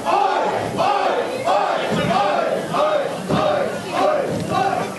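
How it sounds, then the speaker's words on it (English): A wrestling event crowd cheers and chants in a loud, steady rhythm, with about six swelling roars repeating roughly every second and a half. "Crowd definitely behind Reno Scum here"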